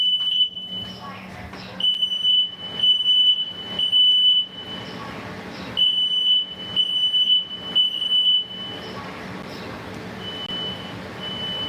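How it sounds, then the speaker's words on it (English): A high electronic smoke alarm beep repeats in short bursts in a kitchen, pausing and starting again, with some background clatter and a voice now and then. "That damn smoke alarm again."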